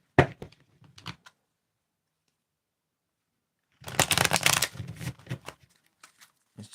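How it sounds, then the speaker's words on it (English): A deck of oracle cards being shuffled by hand makes brief papery riffles and taps at the start, then after a pause a longer, louder, close-up flurry of shuffling. "Let's just shuffle these up a bit, clear them out."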